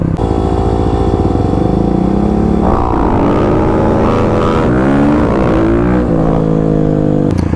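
A Kawasaki KLX351 dirt bike on Dunlop D605 tires rides over gravel and light off-road ground. The engine drones loudly and steadily, close up, with clear revving rises in pitch partway through and no voices.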